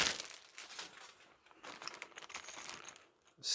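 Plastic packaging on a Warhammer Stormbringer collector issue being torn open, a close, soft crinkling and rustling that runs continuously with small clicks and a sharper crackle at the end.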